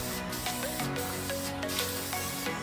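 Continuous hissing spray from an aerosol can of paint tinting car tail lights red, with brief pauses between bursts and faint clicks of the nozzle, no talking.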